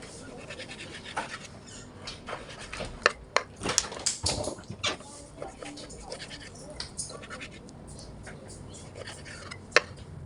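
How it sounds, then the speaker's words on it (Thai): Close knife cuts and scrapes as beef is sliced into bite-size pieces on a cutting board, irregular taps and scratches, with occasional louder knocks. "ขั้นตอนแรกเราก็มาหั่นเนื้อเป็นให้เป็นชิ้นๆก่อนนะคะ"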